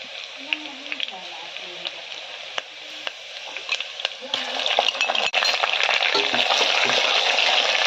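Onion, green chillies and ginger-garlic paste are sautéed in a pan for veg biryani. A steady frying sizzle runs with spoon scrapes and clinks, grows louder partway through, and a voice talks over it.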